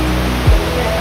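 Steady broadband rush of falling water at Dampalit Falls beneath Mt. Makiling, a continuous close wash with a brief low thump partway through.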